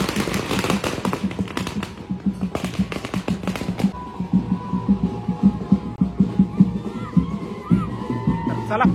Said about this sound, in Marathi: फटाक्या सुद्धा लावलेल्या आहेत.